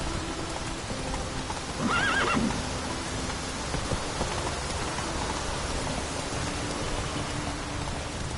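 A horse in The Witcher 3 whinnies once, a brief rising-and-falling neigh over a steady hiss of rain, with hoof clip-clops in the background.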